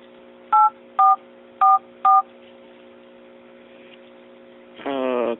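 Four short, evenly spaced keypad tones from the dialer of a Huawei M835 phone ring out over a steady electrical hum, followed by a brief brighter chime near the end.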